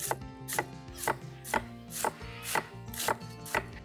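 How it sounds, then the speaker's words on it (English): Cabbage finely shaved for a crispy salad with horseradish dressing, a steady rhythmic series of about eight crisp, close strokes, roughly two per second, with no voices. "I'm just going to shave the cabbage as finely as"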